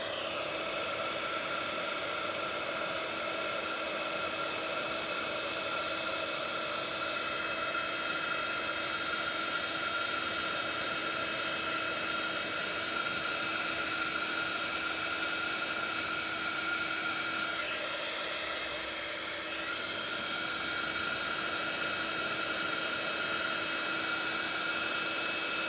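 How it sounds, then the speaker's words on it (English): A heat gun blows hot air over a small craft piece for heat embossing, a loud, continuous whooshing roar with a steady motor whine that holds unbroken throughout. "So that's all the heat embossing done."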